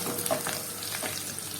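Coconut pieces fry with garlic and green chili in a pan, giving a close, continuous crackling sizzle with light stirring scrapes.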